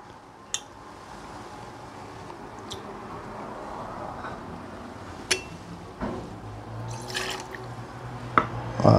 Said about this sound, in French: On va y mettre 4 centilitres de gin.